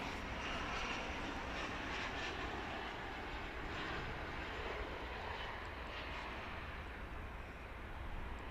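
An airplane on a flight from Fargo comes in to land at DFW Airport, its engine noise a steady, distant broadband roar that holds evenly throughout with no talk.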